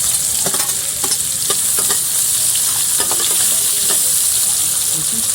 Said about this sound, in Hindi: तो मैंने इसमें लहसुन डाल दिया। देखिए थोड़ा सा ब्राउन हो गया है। अब मैं इसमें प्याज डाल देती हूँ।